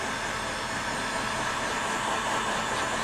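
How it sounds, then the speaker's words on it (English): A hot air gun, used to heat vinyl wrap on FPV goggles, blows with a constant, loud, close airy roar like a hairdryer, unbroken from start to finish. "It's like a normal hairdryer, a bit hotter maybe."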